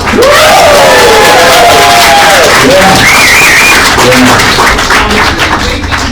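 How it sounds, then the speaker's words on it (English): A loud crowd at a vape convention cheers and whoops with sustained clapping, dense and continuous, filling the space with overlapping shouts. "Give him a round of applause and let him teach you something."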